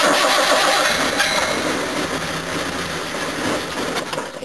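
A 1969 Jaguar XJ6 engine running on rescued carburettors with no choke: a loud, steady idle with rough, broadband mechanical roar that eases slightly in level, close to the listener and with no talk.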